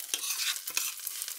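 Rice with butter sizzles and crackles in a pan on the stove, with a steady bright frying hiss and scattered soft scraping clicks of stirring, close and alone without talk.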